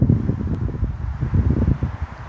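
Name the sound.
wind noise in the background outdoors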